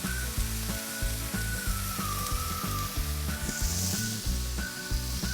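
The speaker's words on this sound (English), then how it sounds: "I'm going to go ahead and get the buns down. Just to get a little crisp on there." Burger buns toasting on a Blackstone griddle give a steady, loud sizzle and hiss that runs throughout, with faint scraping and low background hum, close and without talk.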